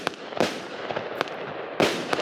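A home fireworks display of 112 shots packed with one kilo of gunpowder, fired for New Year: several sharp booming bursts in uneven succession, loud and fairly close, with crackling between them and no talking.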